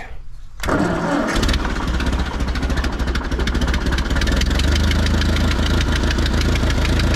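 An old tractor engine turns over and catches after a brief crank, then settles into a loud, steady, slightly rough idle close by, with no talk over it.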